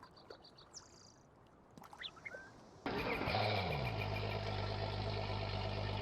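A few soft clicks and chirps, then an in-game Yamaha outboard boat engine in Farming Simulator 19 kicks in abruptly and settles into a steady, loud low rumble with a droning tone.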